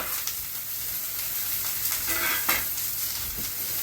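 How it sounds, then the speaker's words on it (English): Onions fry in a very hot pan for liver and onions, a loud continuous close sizzle with occasional stirring scrapes and bursts of crackle. "I want to get those little black burnt edges on my onions. So the pan has to be super, super hot."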